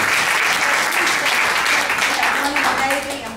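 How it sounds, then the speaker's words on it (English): Applause from a live concert audience at a show, a thick burst of many hands clapping that stays loud and then tapers near the end, with a voice briefly under it. "All right, let's give him a round of applause as well."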